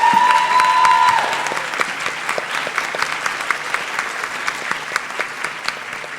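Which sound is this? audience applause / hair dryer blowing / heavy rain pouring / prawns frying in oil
audience applause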